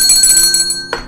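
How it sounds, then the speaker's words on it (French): A bell rings out with sustained bright metallic tones, then a second strike lands near the end and its overtones linger in a clear, fairly loud ring with no talking. "Cloche."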